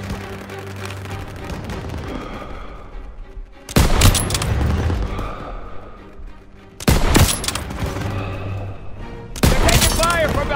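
Gunfire from a World War II street battle in Call of Duty: WWII, heavy overlapping rifle and machine-gun bursts with booming impacts, loud and continuous, surging in three sharp barrages amid battle noise and voices.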